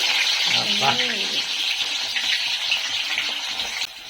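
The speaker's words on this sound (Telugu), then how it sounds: "ఫస్ట్ ఉల్లగడ్డలు వేస్తున్నాము" Onions dropped into hot tempering oil in a village kitchen pan, a loud continuous hissing sizzle throughout with a voice talking briefly over it near the start.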